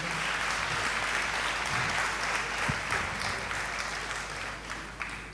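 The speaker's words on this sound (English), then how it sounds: "Can you please give another round of applause?" Sustained applause from a lecture audience at an annual event, steady and full throughout, with no talking over it.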